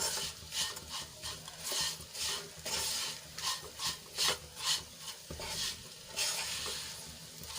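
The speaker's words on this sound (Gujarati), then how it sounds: "આ રીતે હલાવીને એને આપણે ક્રિસ્પી થાય ત્યાં સુધી સાંતળી લઈશું" Leftover roti pieces stirred and sautéed in a pan until crisp, giving a steady sizzle with rhythmic raspy scrapes of a spatula repeating every half second or so, close and alone.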